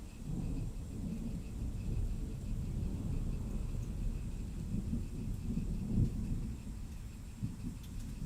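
Thunder in a thunderstorm rolls as a low continuous rumble for several seconds, heard indoors at moderate distance, with a few slightly louder swells and a faint steady hum above it.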